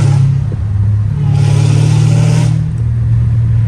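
A Dodge Hellcat Redeye with a catless exhaust revs hard, its deep engine roar surging, peaking in a louder burst, then settling back to a heavy idle rumble, close and loud.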